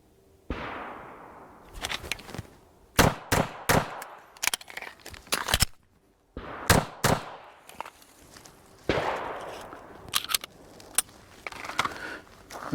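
Pistol fire from a ZEV OZ9 or Springfield XDM during a timed shooting drill with a cold reload, sharp close shots in rapid strings and pairs, broken by a pause and reverberant outdoor echo.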